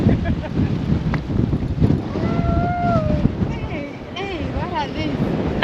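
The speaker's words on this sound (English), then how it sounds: "It's really windy." Strong wind buffets the microphone in a loud, constant roar at a beach estuary where a river meets the ocean along South Africa's Garden Route, with surf beneath and a person speaking briefly over the gusts.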